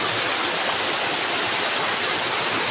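Steady broadband roar of a waterfall in a forest, continuous and fairly loud throughout with no voices or other sounds breaking through.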